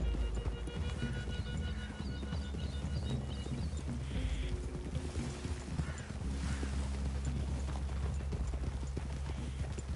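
Horses' hooves clip-clop steadily in Red Dead Redemption 2, several animals trotting together in a continuous rhythmic patter, close and loud, with ambient forest sound and no speech.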